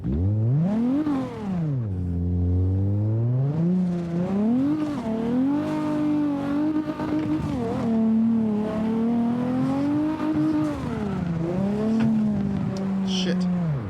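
A car engine in the video game CarX revs and whines through rising and falling pitch sweeps, with brief tire squeals, continuous and loud, while a person talks over it.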